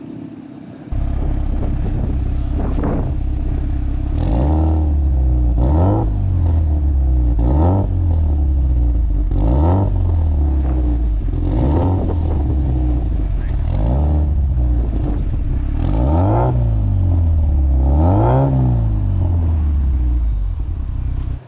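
A Cusco Toyota GR Yaris Japan Rally Championship car, its chassis at 207,000 km, has its engine revved repeatedly. There are about eight sharp blips that each rise and fall in a steady rhythm over a loud idle.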